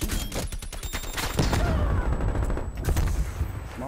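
Rapid gunfire bursts from the multiplayer shooter game Call of Duty Black Ops Cold War, loud and continuous, with repeated sharp shots stacking into a dense fusillade throughout.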